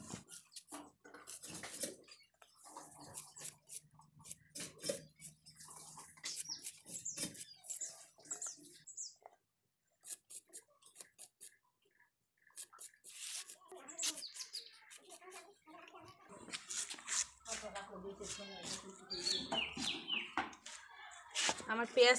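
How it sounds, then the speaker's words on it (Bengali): Peeled onions sliced thinly with a knife on a board for a beef bhuna curry: a long run of quick, sharp cutting taps and clicks, close and fairly quiet, with a person talking over much of it. "এখানে আমি পেঁয়াজ ছিলে রেখেছিলাম, এগুলোকে এখন চিকন করে কেটে দিয়ে দেবো মাংসের সাথে।"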